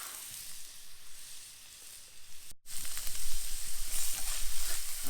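Food cooking over coals at a smoky outdoor fire by a pond, a steady close sizzle and hiss that swells louder after a brief cut, with no voices.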